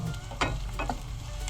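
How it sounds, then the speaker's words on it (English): Chopped onions fry in oil in a pan for a Thai curry, a soft steady sizzle with a few brief stirring scrapes, faint and close, with no talking. "Let the onion fry for a little bit."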